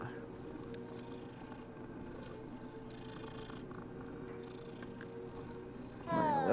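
A cat in the video game Hogwarts Legacy purrs softly in a steady, low rumble under quiet game ambience, and a brighter magical sound effect bursts in at the end.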